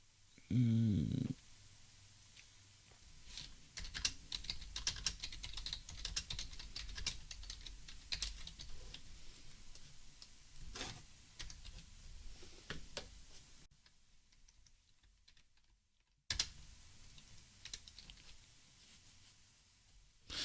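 Fingers tap steadily on a computer keyboard while a product description for an ad campaign is written, a run of quiet, close clicks with brief pauses and a near-silent gap toward the end.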